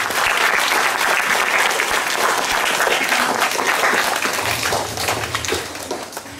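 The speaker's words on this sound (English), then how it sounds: "Let's give them a big round of applause" Loud, sustained applause from a school assembly audience for a Class 4 performance, dense clapping filling the whole stretch and thinning slightly toward the end.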